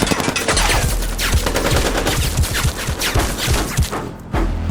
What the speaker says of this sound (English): There are children in there, why are you firing, man?